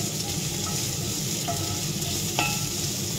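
Chicken steak sautéing in a pan, a steady close sizzle with a few soft scraping stirs over roughly three seconds, no voices.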